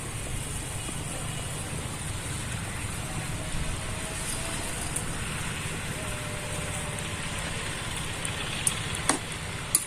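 Pangas fish curry simmering in a pan of watery gravy gives off a steady, soft hiss with faint scattered ticks, continuous and fairly quiet throughout, with no voices.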